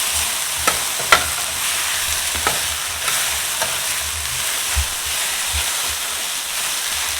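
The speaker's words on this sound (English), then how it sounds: "Make sure there's enough oil at the bottom of the pan to fry the okra" Okra frying in oil in a pan over medium-low heat, a dense continuous sizzle with a few light taps and low rumbling undertones.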